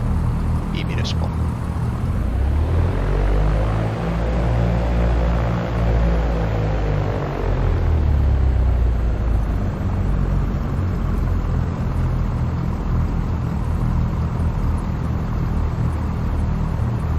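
Cessna 172 single-engine airplane departing straight out from a municipal runway, a steady loud engine drone with a rising-then-settling harmonic hum around the takeoff, continuous for the whole stretch with a brief faint chirp near the start.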